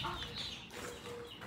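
Farm chickens clucking softly in a quiet yard, a brief faint stretch of low clucks and calls with some background noise.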